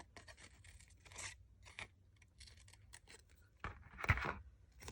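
Scissors snipping paper flower petals in short, quiet bursts with small pauses between them, close up, ending in a slightly louder crunchy cut.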